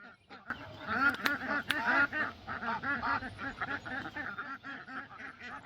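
Cayuga ducks quacking in a close, busy chorus of rapid overlapping calls that runs on without pause.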